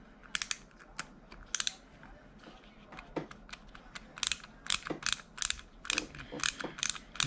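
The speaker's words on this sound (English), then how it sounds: "These ratcheting screwdrivers are so nice." Quick bursts of ratcheting clicks from a ratcheting screwdriver backing a bolt out of a Losi Mini-T RC truck, close up and fairly quiet, coming in short rhythmic runs with small pauses between them.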